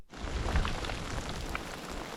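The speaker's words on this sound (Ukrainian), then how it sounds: "почався дощ, вже зложував намет, коли йшов дощ" Steady rain falls during a Carpathian mountain thunderstorm in a dense, hissing wash with a low rumble beneath, a few drops standing out briefly.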